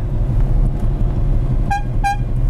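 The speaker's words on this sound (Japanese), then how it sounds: "ホーンはね、なんかここのウインカーレバーを内側にこう内側にやるとなりますね。ピャッピャって。" Two short, bright horn beeps from a Lamborghini Countach, sounded from the turn-signal stalk, stand out over a steady low engine idle and cabin rumble.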